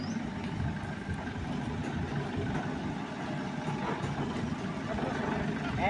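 A truck idles while Friesian cows are about to be loaded onto it, a steady low engine rumble that holds evenly throughout with a broad, noisy outdoor wash over it.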